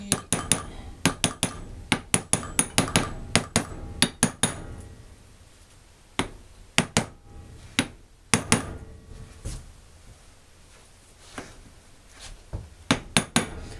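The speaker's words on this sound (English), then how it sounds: "so we can hammer it lightly" Metal hammer blows tap a bearing onto an outboard jet shaft, sharp ringing strikes in quick bursts and scattered single hits, close and loud with no talk.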